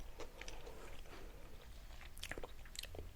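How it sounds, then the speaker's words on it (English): Someone chews a mouthful of ranch style beans with potatoes and eggs, giving soft close-up wet crunches and smacking bites over a quiet background hum. "maybe I should just chew and not talk."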